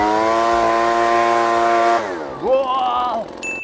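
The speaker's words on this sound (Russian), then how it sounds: "Вот такая вот замечательная воздуходувка была у нас сегодня на обзоре." An Oleo-Mac BV250 petrol leaf blower runs with a loud, steady high-pitched two-stroke whine, then drops in pitch and wavers as the throttle eases off, close up.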